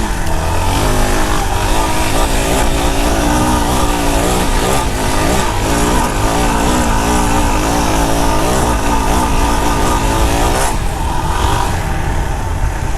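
Two dirt bikes, a Suzuki DR-Z400S and a KTM 350 EXC-F, climbing a hill on a woods trail, their engines revving hard and loud near at hand throughout with no talk.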